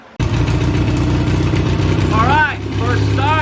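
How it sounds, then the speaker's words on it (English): A vintage British motorcycle engine runs steadily and loudly with a throbbing idle, while a voice briefly sounds over it. "We have a motorcycle that runs, just needs a little adjusting here and there."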